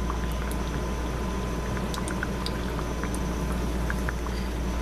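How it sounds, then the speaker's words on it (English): Frozen double chocolate filled donuts deep frying in hot oil give a steady, dense bubbling hiss with scattered small pops, continuous and close throughout. "And these are going to fry up, brown on both sides."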